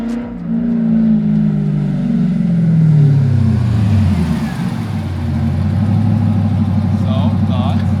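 A C5 Corvette with its muffler removed growls loudly on a test drive, the engine note rising and then settling into a steady, throaty drone close by, with no talk over it.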